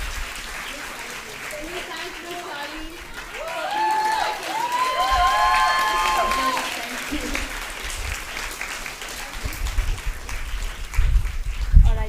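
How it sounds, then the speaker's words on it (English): Student audience at a school event applauds and cheers for the speakers, clapping swelling under an announcer's voice over a sound system, with some whoops and shifting crowd noise. "Another huge round of applause for our speakers."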